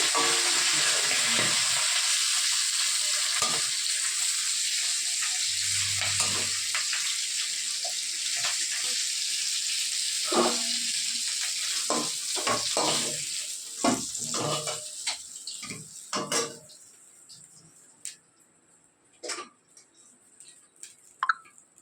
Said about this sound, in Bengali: মাছের মাথাগুলো ভালো করে ভেজে নিয়েছি লাল লাল করে